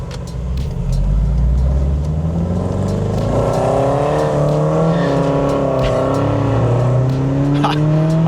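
A Mazda Miata NC with a six-speed manual, limited-slip differential and full catless exhaust with double-resonated mid-pipe and SuperQ muffler drives hard, its loud engine note rising and falling through gear changes, close and continuous.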